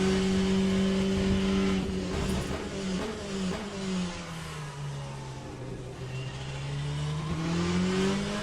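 Corvette C8.R race car in the Le Mans Ultimate sim, its engine wailing loudly, dropping in pitch under braking and shifts, then climbing again as it accelerates out of a corner, alone without talk.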